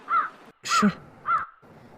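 A crow caws three times in loud, close, evenly spaced calls near an outdoor village mutton curry feast preparation in North Karnataka, with no voices in between.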